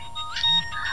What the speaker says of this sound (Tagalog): May nagapanawag sa cellphone ko.